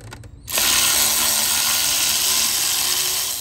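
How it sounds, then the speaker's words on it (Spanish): A power tool whirs loudly and continuously, driving and tightening bolts on the water pump of a 2008 Chrysler 300 with a 3.5L engine, after a brief quieter moment at the start. "Y ahí ya llegaron todos los tornillos. Y ahorita los apretamos."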